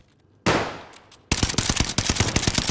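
Automatic gunfire in a first-person shooter video game, a single loud crack with a decaying tail followed by a rapid, close burst of repeated shots, with no talk over them.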